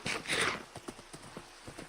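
Minecraft horse hooves clip-clop in a steady, fairly quick rhythm at moderate level.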